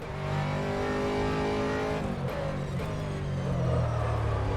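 An Aston Martin GT3 race car in rFactor 2 roars at Sebring, a loud steady engine drone that drops with a shift midway, then climbs again as it accelerates, with faint tyre noise.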